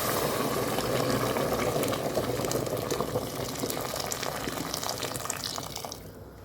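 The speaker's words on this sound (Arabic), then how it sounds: "كما شفتوا معايا انا راه مرقت بالماء غليان" Boiling water is poured over fried calf feet in a pot, a continuous splashing gush of liquid that slowly tapers off near the end.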